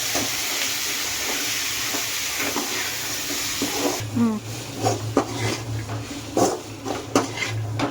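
Beans, potatoes and another vegetable sautéing in a pan for veg kurma, a steady sizzle that shifts midway to stirring scrapes and pan clatter over a low hum, with a voice speaking intermittently.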